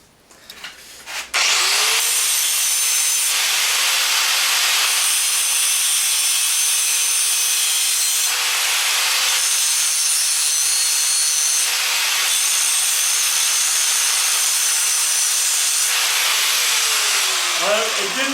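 A grinder held against a piece of steel during a blacksmith's spark test, made while reproducing an old grape-pruning billhook; a loud, steady abrasive whine runs continuously for about sixteen seconds with slight pulsing swells, then winds down at the end.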